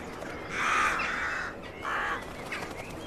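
Rooks cawing outdoors, two harsh, drawn-out calls in quick succession and a fainter third, fairly close and clear over a low hum of ambient noise.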